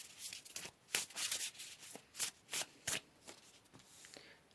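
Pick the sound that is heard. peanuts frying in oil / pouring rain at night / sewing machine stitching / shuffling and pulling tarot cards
shuffling and pulling tarot cards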